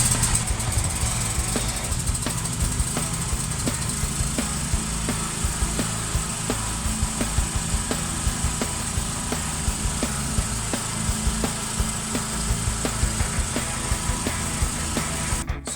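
A 6 kW generator on an off-grid solar setup runs steadily, a loud continuous engine drone with a low rumble and even texture throughout, close by, with no voices over it.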